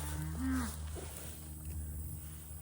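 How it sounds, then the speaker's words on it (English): A cow moos loudly for her calf on a farm, a single drawn-out low call up close, followed by quieter farmyard background. "That's why she's mooing."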